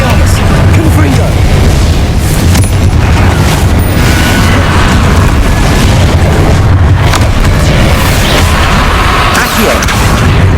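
Confringo spell explosions in Hogwarts Legacy, a dense and loud barrage of booming blasts and crackling bursts running continuously with no pause.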